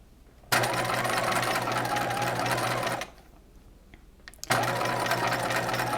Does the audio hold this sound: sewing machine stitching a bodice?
yes